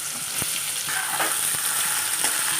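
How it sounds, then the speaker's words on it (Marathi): Ridge gourd (tinda) pieces fry in hot oil for a Marathi-style sabzi, giving a loud, steady, dense sizzle with a few soft stirring knocks, heard up close with no talking. "तेल गरम झालेलं आहे आपलं त्याच्यात हे तिंडे टाकून द्यायचे"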